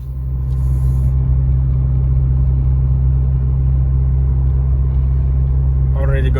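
Mitsubishi Evo 8 on the road after new rear differential bushings, a steady low engine and tire rumble filling the cabin continuously, loud and close, with a brief brighter noise near the end.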